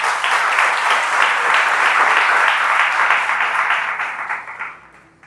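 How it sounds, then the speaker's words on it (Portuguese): A church congregation applauds in a dense, loud, sustained burst of clapping that thins out and fades toward the end. "Dá mais uma salva de palmas para Jesus,"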